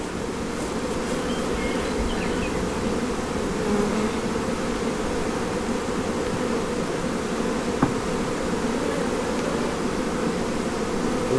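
Honey bees swarm around an open hive being inspected during spring splits, a dense, unbroken buzzing drone that holds steady throughout, with one faint tap near the end.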